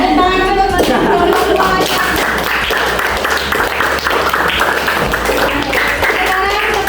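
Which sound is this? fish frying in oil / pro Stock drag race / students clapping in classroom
students clapping in classroom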